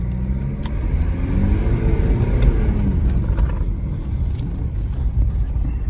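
A BMW E46 is driven on the road. A steady, loud low rumble of engine and tyres fills the cabin throughout, with no talking.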